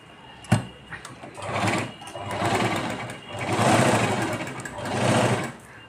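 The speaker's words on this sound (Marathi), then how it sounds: "आणि आता आपण स्टार्ट करू ब्लाऊज शिवायला." A domestic sewing machine stitches a blouse, its motor whirring in several loud bursts of rapid needle chatter separated by brief pauses, with a sharp click near the start.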